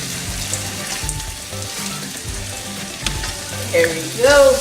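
Pork chops sizzle in sauce in a hot pan while being flipped and stirred, a steady frying hiss with scraping and clatter, swelling louder near the end.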